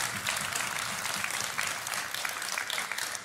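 A crowd applauds steadily, a dense wash of clapping that holds without pause throughout.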